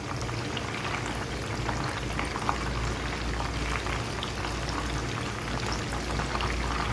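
Fish fries in hot oil in a pan, a continuous soft sizzle and crackle with scattered small pops, fairly quiet and steady, with no voices.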